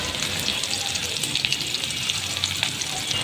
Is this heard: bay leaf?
yes